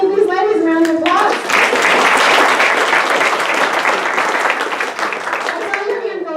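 An audience at a comedy show at Crystal Gardens in Southgate, Michigan applauds two women volunteers, with steady, full clapping that follows a brief spoken line and carries on for several seconds before easing toward the end.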